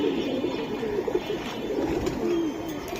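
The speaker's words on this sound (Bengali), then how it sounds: "এটা জাবরা পাখি, জাবরা পাঙ্কি বলে" Jabra pigeons coo nearby in low, warbling rolls, repeating in uneven bursts over a steady wash of ambient noise.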